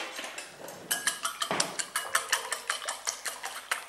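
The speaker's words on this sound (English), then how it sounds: "just whisk it up" Eggs whisked for a Spanish omelette, about a dozen fast, even taps of a fork or whisk clicking against a bowl, close and crisp, with nobody talking.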